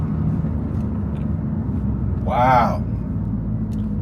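A BMW F80 M3 engine drones as a low, steady rumble heard from inside the car while driving, with one brief voiced exclamation partway through.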